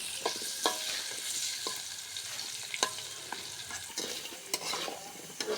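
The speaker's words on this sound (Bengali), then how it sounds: "আলুটা আমি ভাজে নেব।" Potatoes fry in a pan with turmeric, giving a soft steady sizzle, while a spoon stirs them in sharp irregular scrapes and clacks against the pan.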